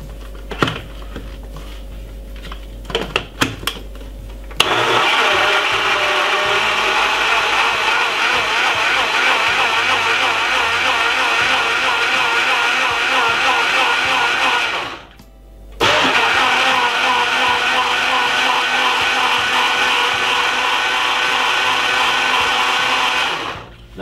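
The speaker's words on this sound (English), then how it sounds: "Let's blend this about 3 to 4 seconds. If you have a good ninja blender." A Ninja blender whirs loudly while blending ripe mango juice with honey, starting after a few clicks and thumps, running steadily, pausing briefly, then roaring again at full speed.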